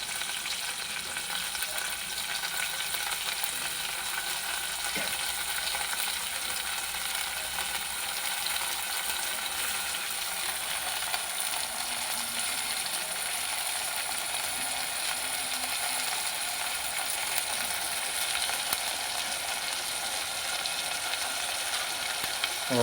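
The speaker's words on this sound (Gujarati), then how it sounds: "તેલમાં લસણ ચડે ત્યાં પછી આપણે ઘડીક ચડવા દઈએ" Garlic and green onion fry in hot oil, giving a steady, even sizzle and crackle that runs on alone and close up, with occasional faint clicks of stirring.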